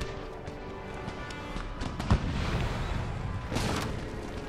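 A cannon or musket shot booms amid battle noise in the video game Empire: Total War, one sharp report over a rumbling, busy background of distant fire and movement.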